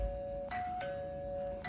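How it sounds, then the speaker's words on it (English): A home doorbell chimes three times in under two seconds, each ring a quiet, clear tone over a faint background hum. "oh, that's our doorbell."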